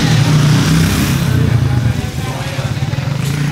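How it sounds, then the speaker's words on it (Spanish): A motorcycle pulls away close behind, its low engine drone steady and loud for a couple of seconds before easing slightly as it moves off. "espérense que está saliendo una moto aquí atrás"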